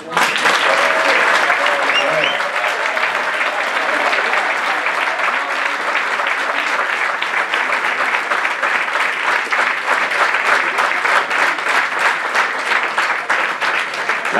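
Sustained audience applause fills a Santander award ceremony for the Flor de Nieve presentation, a dense, steady clapping crowd that holds at full loudness throughout with no pauses.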